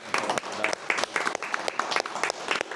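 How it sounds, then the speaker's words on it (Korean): Audience applause closing a Korean conference session on innovation growth and intellectual property, a dense steady patter of many hands clapping close by, with some voices mixed in. "예, 박수로 끝내겠습니다."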